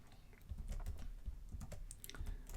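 Close, quiet clatter of fingers on a computer keyboard, a quick run of uneven keystrokes with a small pause and then a further burst of taps.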